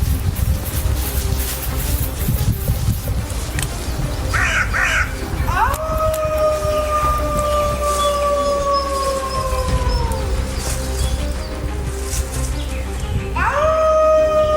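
Wolves howl during a territorial confrontation between rival packs: long, sustained, gradually falling howls rise out of a constant rumbling background, with one howl lasting several seconds and another starting near the end.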